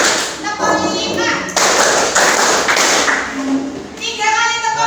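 Indonesian primary schoolchildren in a classroom clap a counted five-beat pattern together, a run of sharp hand claps close by with children's voices chanting over them.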